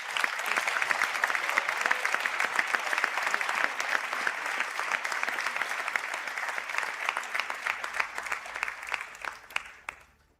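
A graduation conferring ceremony audience applauds standing engineering graduates, brisk dense clapping from a large hall crowd that continues strongly and gradually thins out toward the end.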